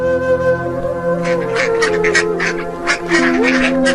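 Ducks by a village pond quack in a series of short, raspy calls, clustered more densely toward the end, over a steady tonal background.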